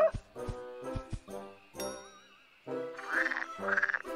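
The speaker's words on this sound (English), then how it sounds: "It's a frog!" A cartoon frog croaks in a few bright, warbling bursts, preceded by short thumps and a rising whistle, all close and fairly quiet.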